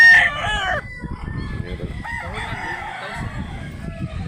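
Roosters for sale at a chicken market in Mantalungon, Barili, South Cebu crow loudly up close, one long crow at the start and another in the middle, over a busy background of market chatter and clucking.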